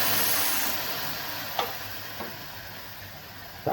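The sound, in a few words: sizzling tempering poured into lentil sambar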